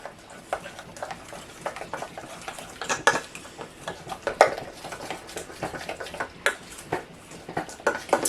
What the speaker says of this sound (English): And I'm going to stir that in